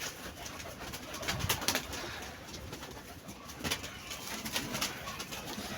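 A flock of pigeons cooing and fluttering outdoors, with steady bird chatter and occasional louder bursts of wingbeats throughout.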